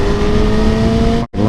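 A Harley motorcycle engine runs loud and close in a sustained steady drone, broken by one sharp momentary cutout before the rumble resumes.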